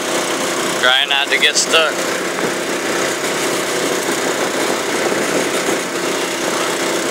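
A UTV engine runs with a steady drone while driving outside rounds of a field with sprayer booms extended, continuous and close, with someone briefly talking over it.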